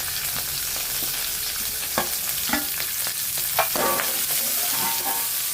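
Chopped onions and green chillies sizzling in hot oil in a pan, with a steady crackling fry and occasional sharp pops and stirring scrapes, close and even, with no talking.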